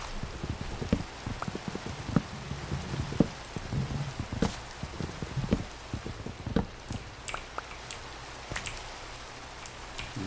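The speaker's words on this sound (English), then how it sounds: "Definitely hate the rain in this game." Rain in the Minecraft video game: a steady patter of scattered drops and soft taps throughout, moderately loud and continuous, with no voices heard.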